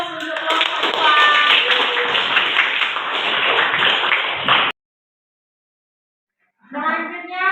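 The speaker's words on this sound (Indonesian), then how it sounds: "Kasih aplaus untuk kelompok" A classroom group claps for a presenting group in a biology lesson, with steady clapping and a few voices mixed in. It cuts to silence for about two seconds, then a voice comes in.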